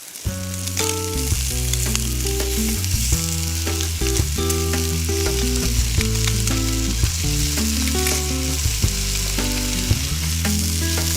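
Scallops sear in a hot pan with a loud, continuous sizzle, joined by brief scraping and tapping as they are turned over, and no one speaks.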